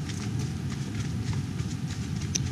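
Standardbred horses on a trail ride clip-clop along at an easy walk, their hoofbeats soft and fairly distant under steady outdoor background noise.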